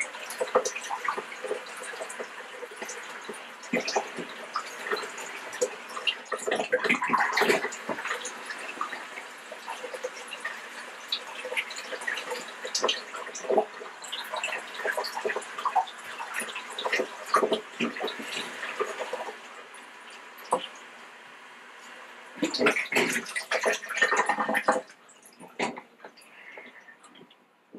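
Water pours into a coffee filter to pre-wet it before brewing with a Melitta Gevalia Kaffe BCM 4C coffeemaker, a steady close trickling and splashing stream that continues for a long stretch and then resumes in a brief burst.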